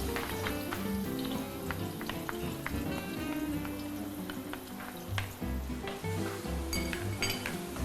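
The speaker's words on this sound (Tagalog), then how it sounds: "So, we're going to saute the filling." Garlic and milkfish (bangus) filling sauté in a hot pan, giving a steady, close sizzle with frequent clinks and scrapes of a utensil stirring against the pan, with no talking.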